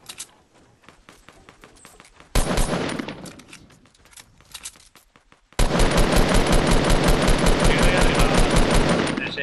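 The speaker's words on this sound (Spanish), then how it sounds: "Estoy disparando, eh." Gunfire in Fortnite: rapid automatic bursts, first quieter and spaced, then a loud, sustained stream of shots near the end, with no voices.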